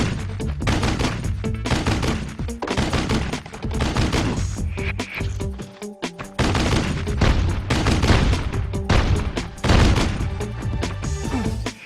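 Rapid gunfire in the Army Men: Major Malfunction video game as a turret is shot at, dense bursts of shots and booms running almost continuously over a loud game soundtrack, with a brief lull midway.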